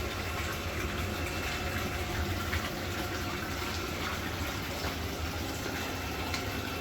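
Continuous rushing, gushing water pours steadily at close range into a tank, a dense broadband wash with no pauses and no voices.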